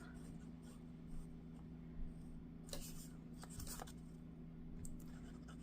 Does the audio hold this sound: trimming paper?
yes